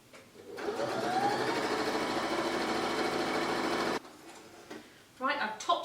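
A sewing machine runs steadily for about three seconds while top stitching fabric, a continuous near mechanical whir, then stops and a voice briefly speaks.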